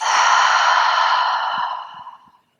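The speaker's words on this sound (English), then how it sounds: "And fully exhale out of the mouth." A deep, breathy exhale released through the mouth during a morning yoga stretch, close and clear, fading out over about two seconds.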